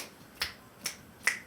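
A Dr. Rhythm drum machine clap sample plays three times, each a short sharp crack, evenly spaced and fairly quiet, alone without other sounds.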